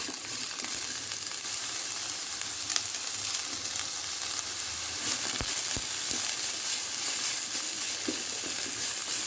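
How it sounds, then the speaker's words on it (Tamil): Onions sauté with a little salt in a pan while masala noodles are being made, a constant close hissing sizzle with a few faint stirring knocks throughout, no voices. "வெங்காயம் வேகமா வதங்குறதுக்கு கொஞ்சமா உப்பு சேர்த்து வதக்கிக்கலாம்."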